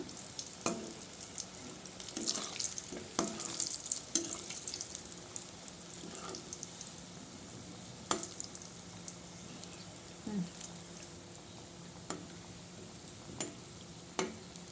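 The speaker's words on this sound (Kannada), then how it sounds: "ನೋಡಿ ಈ ಥರ ಚೆನ್ನಾಗಿ ಎಣ್ಣೆಲಿ ಫ್ರೈ ಮಾಡ್ಕೋಬೇಕು" Khaja puri sweet deep frying in oil, a faint steady bubbling sizzle broken by occasional sharp clicks and taps of a utensil against the pan, fairly quiet and close, with no talking.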